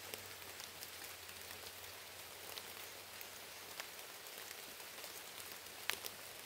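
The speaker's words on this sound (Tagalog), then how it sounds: "Lumakas yung ulan no?" Rain falling outdoors in a rural setting, a soft, steady hiss of drops on surfaces with occasional sharper nearby drips, fairly quiet and continuous with no talk.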